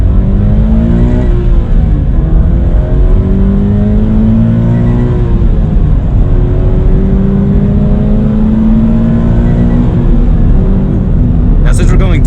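A 2020 Toyota GT86 Hakone Edition accelerates downhill on a highway. Its engine note climbs repeatedly through the gears in rising sweeps, loud from inside the car, with a brief sharp noise near the end.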